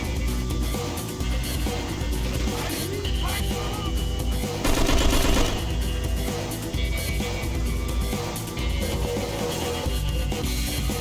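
Steady, dense video game gunfire runs throughout, with a louder, thicker burst around the middle, all set against a busy, continuous game soundscape.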